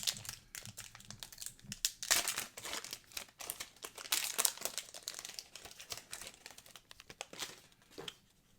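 Packaging crinkles and crackles close up as a Pokémon Destined Rivals Elite Trainer Box is opened, a fairly quiet run of irregular rustles and sharp crinkly bursts.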